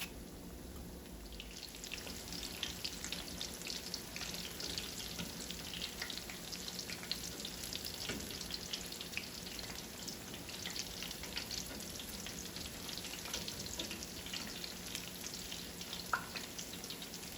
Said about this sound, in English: I'm just frying this on a medium heat until they are golden brown